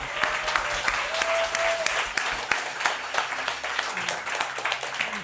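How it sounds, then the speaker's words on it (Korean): Applause from a church congregation celebrating new believers, steady dense clapping throughout with a few brief tonal sounds and some talk faintly underneath. "우리 예수님을 영접한 사람들을 위해 축하의 박수를 올려드리겠습니다"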